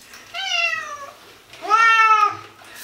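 A cat gives two loud, drawn-out meows close by while being bathed in a bathroom, each cry rising and then falling.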